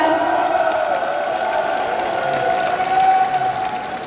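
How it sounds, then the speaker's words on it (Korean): Crowd applause with some cheering at a Democratic Party national members' convention joint speech rally in Iksan, following a Supreme Council candidate's speech; steady, sustained clapping fills the hall throughout, with tonal music-like tones running underneath. "여러분 다시 한번 격려의 박수 부탁드리겠습니다."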